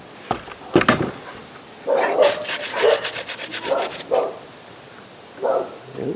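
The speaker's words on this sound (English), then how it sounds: "Neighbor's dog." A dog barks in short repeated bursts at a moderate distance, with a rubbing, handling noise from a Sears Roebuck Craftsman curved-shaft trimmer from 2009 being examined up close.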